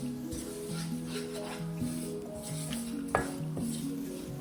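Spice paste with chili powder for fish curry being stirred in a pan, heard as a continuous close scraping and soft sizzle with occasional light clinks of the utensil against the pan.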